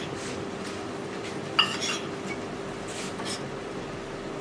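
A spoon clinks once against a bowl while bread crumbs and pepper are mixed for a finger fish coating, followed by a few faint scrapes over a quiet background hum.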